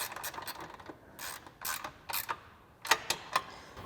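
A 13mm wrench tightens the bracket bolts on a Rough Country SR2 aluminum side step for a 2021-2023 Ford Bronco, giving close, irregular metallic ratcheting clicks in short bursts with quiet gaps between them.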